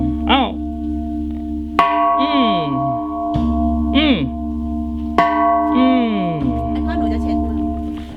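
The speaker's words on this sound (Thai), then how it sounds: "ก่อนกลับเราก็ต้องตีระฆังหน่อย" A temple bell at Wat Phra Phutthabat Suttawat in Lampang, Thailand, is struck three times. Each deep ring lingers and decays while a voice talks over it, all close and loud.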